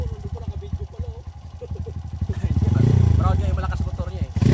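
Loud motorcycle engine idling and revving close by, a steady pulsing rumble that swells midway, with people talking over it.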